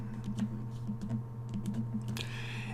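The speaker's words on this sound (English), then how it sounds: "You can type in your patient's last name" Typing on a computer keyboard in a dental office, entering a patient's name into digital impression software: quick, light key clicks in short irregular runs over a steady low equipment hum, ending with a slightly louder clatter.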